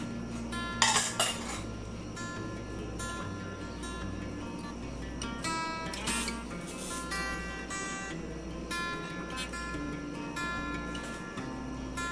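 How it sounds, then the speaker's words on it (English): Cranberry coleslaw stirred in a bowl with a rubber spatula, giving soft scraping and a few sharp clinks near the start and midway, fairly quiet and steady with no talking. "the rubber spatula goes really well for stirring this up"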